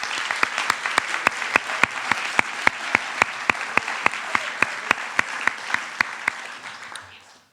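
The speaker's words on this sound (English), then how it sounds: "Please give them a round of applause." A crowd at a spring varsity athletic awards ceremony gives a sustained round of applause, steady dense clapping with sharp individual claps standing out, holding level before tapering off near the end.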